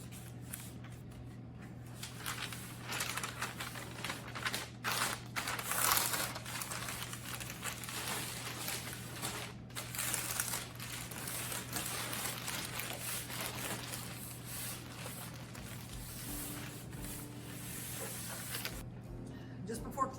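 Craft paper crinkles and rustles while a rolled canvas is wrapped for shipping, with steady close handling noise running throughout and a low constant hum underneath.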